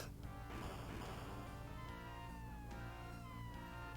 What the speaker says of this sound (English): Apparently there was a cat for some reason.